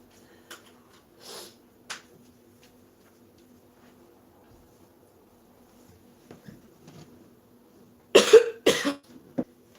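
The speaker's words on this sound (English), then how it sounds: "I think that's what's making me cough." A burst of two or three sharp coughs close by, following several seconds of near quiet with a faint hum and a few small clicks.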